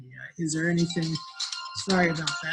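A phone ringtone chimes in bursts of tones during a virtual workshop, overlapping with a person talking close by.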